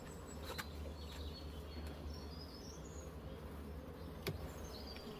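Honey bees swarm in great numbers through a beehive's honey super during a spring inspection before the rapeseed flow, giving a steady low hum close by with faint chirps of birds outside.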